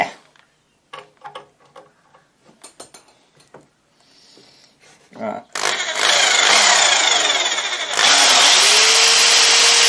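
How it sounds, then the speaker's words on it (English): Electric drill boring pilot holes while adding an MP3 input to a valve radio: scattered clicks and handling noises, then loud sustained whining bursts of drilling that stop and restart. "Pilot holes are drilled."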